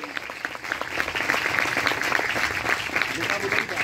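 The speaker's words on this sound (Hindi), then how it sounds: "खुदा यीशु मसीह के नाम से जोरदार ताली" Sustained applause from a church crowd at a Christmas sermon, a dense steady clatter of clapping lasting a few seconds, with voices mixed in underneath.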